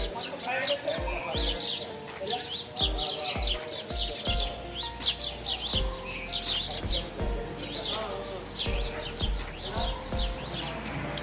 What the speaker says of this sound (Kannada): ಪಕ್ಷಿಗಳು ಚಿಲಿಪಿಲಿ ಅನ್ನಕತ್ತ ನೋಡ್ರಿ.